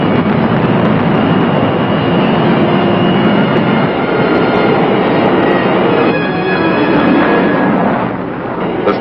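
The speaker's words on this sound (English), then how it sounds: "Still concentrating on his target, the pilot checks his speed and goes supersonic." A jet interceptor aircraft flying fast and going supersonic, a loud continuous roaring rumble with broadband noise that holds steady throughout and eases slightly near the end.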